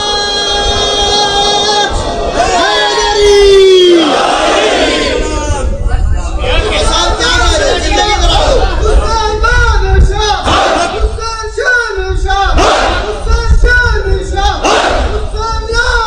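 Large crowd at an Urdu-language religious gathering loudly reciting salawat together, a dense roaring chorus of voices with rising and falling chanted waves that fills the whole stretch.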